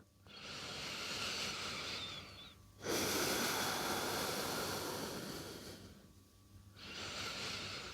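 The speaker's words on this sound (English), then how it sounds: "Take 3 breaths here." Slow, heavy breaths held through a yoga pose in a downward-facing stance, long airy inhales and exhales in broad swells with short quiet gaps, close and steady, with no talking.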